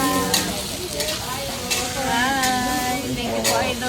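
Onions frying in oil at a tilapia cooking stall, a steady sizzle with occasional utensil scrapes while people talk over it.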